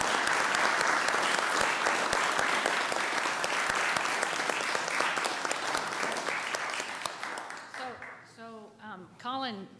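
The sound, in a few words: applause for park volunteers at city council meeting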